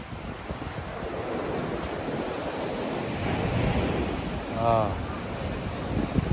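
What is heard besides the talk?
ocean waves breaking on the beach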